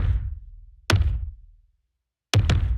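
Stacked kick drums from the Tenebrae percussion library, heard as three deep, punchy hits that each ring out in a low decay, separated by short silences and with no voices.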